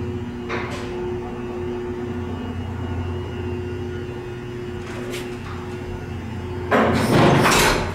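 A historic Otis traction elevator with a single-speed motor in an old nursing home building hums steadily through its ride, with a few knocks and clunks, then a louder rattling burst of door or car movement near the end.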